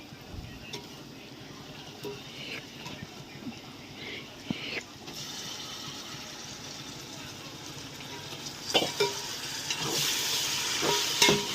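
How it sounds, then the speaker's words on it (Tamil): Cleaned mutton goes into a pan of onions sautéed with mint and coriander for biryani. It starts as a quiet hiss with a few clatters, then bursts into a louder, brighter sizzle that stays strong toward the end. "இப்போ நம்ம க்ளீன் பண்ணி மட்டனை சேர்த்துடலாம்"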